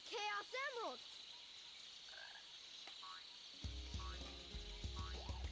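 Cartoonish frog croaks from Sonic Adventure, several rising, warbling calls in quick succession up front, then quieter game ambience and music with a short croak near the end.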